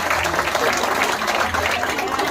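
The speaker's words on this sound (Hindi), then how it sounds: "इनके लिए हाथ ताली मारना चाहिए" A crowd at a school Independence Day event claps for a teacher who has just sung, a continuous, dense wash of applause that stays loud for the whole moment.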